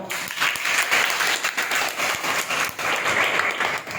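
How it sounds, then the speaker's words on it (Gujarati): Sustained applause from an audience at a college event honoring the principal, loud and dense throughout with steady hand claps and no pauses. "આપણા આચાર્ય સાહેબ માટે જોરદાર તાળીઓ"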